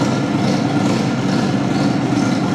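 A motorcycle engine runs with light throttle, a steady loud low rumble held close and even throughout, with no voices over it.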